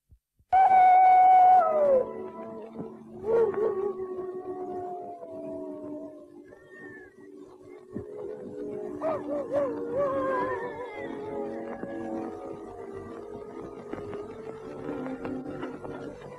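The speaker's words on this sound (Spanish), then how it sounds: "Los coyotes me crispan los nervios. Aullan como un niño llorando." Coyotes howling at night in the western film Stagecoach, long wavering cries that rise and fall and overlap one another, moderately distant and carrying on throughout without talk.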